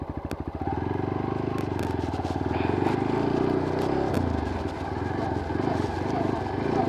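A motorcycle runs with its throttle held low, and its engine note stutters and surges unevenly as the bike jerks. It is fairly close and moderately loud.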